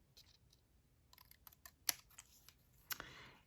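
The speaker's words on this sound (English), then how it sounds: "I'm going to take some scissors here and just give this a little snip" Scissors snip paper while a shaker card is being made, a few sharp crisp clicks scattered over the quiet, with one louder snip followed by a brief rustle of paper near the end.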